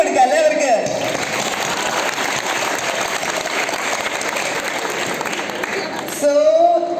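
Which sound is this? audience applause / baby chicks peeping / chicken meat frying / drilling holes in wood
audience applause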